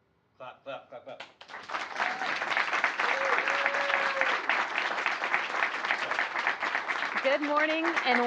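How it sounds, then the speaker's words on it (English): Clapping applause from an audience at a NASA education event: a few scattered claps at first, then sustained, dense applause with a voice speaking briefly over it near the end. "Clap, clap, clap, clap."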